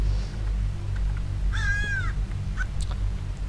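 A crow caws once, loud and close, in the video game Hello Neighbor Alpha 2, a single harsh rasping call standing alone over a steady low rumble of background game ambience.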